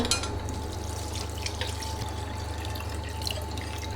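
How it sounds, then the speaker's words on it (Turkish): Meat broth splashes steadily onto bulgur in a pot, a continuous close pouring and trickling of liquid with no talk. "et suyunu ilave ettim."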